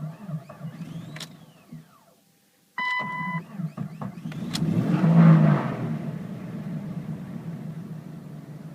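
A 1998 Jeep Cherokee with 190,000 miles, running off a jump box because of a dead battery, cranks and catches, then its engine revs high and settles into a rough, uneven idle, loud and close with no talking.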